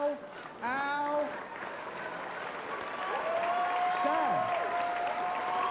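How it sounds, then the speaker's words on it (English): A stand-up comedy audience applauds and cheers, a steady wash of clapping that swells and holds while the comedian talks over it. "You're applauding his pain."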